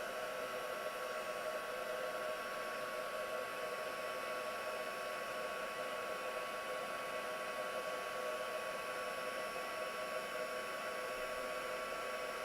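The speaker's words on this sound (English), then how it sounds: "So I'm just going to emboss this now. So my heat gun gets hot enough." Heat gun melting embossing powder on a card, a loud steady blowing whir with a constant high whine, unbroken from start to finish with no talking.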